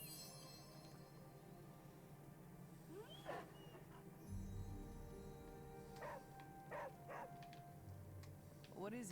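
Charlie the dog in Marvel's Midnight Suns gives several short, yippy barks and whimpers, spaced out over quiet game ambience and low rumbles.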